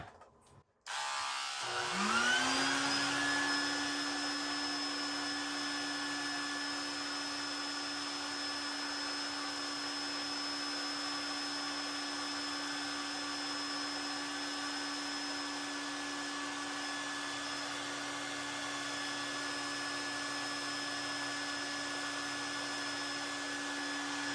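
A Flowbee vacuum hair clipper gives a steady, loud electric motor whine with a high tonal hum, starting abruptly after a brief silence and running continuously without pause.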